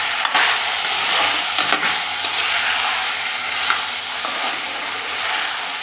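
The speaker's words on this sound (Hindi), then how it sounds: "देखिए मेरा अच्छे से मटर आलू फ्राई हो गया" Peas and potatoes fry in a pan with a loud, continuous sizzle, broken by occasional scraping knocks as a spoon stirs them.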